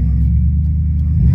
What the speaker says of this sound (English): the muffler rotted out, so it sounds pretty wild